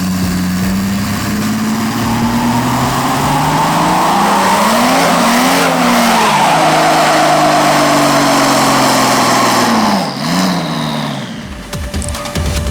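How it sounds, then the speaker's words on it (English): A big V12 engine in a Toyota Hilux pickup roars at high revs as tires squeal continuously through a long wheelspin, pitch rising and dipping before the noise cuts off. "Every single time the wheels start spinning."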